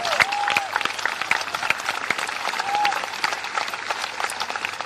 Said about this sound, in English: we should give them a huge round of applause